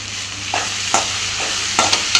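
Okra with tomato and salt being sautéed in a pan, a steady soft sizzle broken by several sharp scrapes and clinks of a spatula stirring against the metal, close and moderately loud with no voices.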